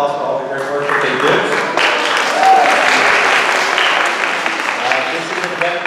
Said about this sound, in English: let's give them a round of applause for all the great work that they do